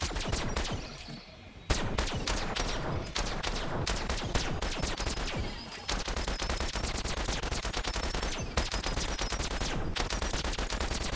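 Rapid automatic gunfire in the VR game BoneLab rattles almost nonstop, loud and close, in dense bursts broken by a couple of brief pauses before resuming.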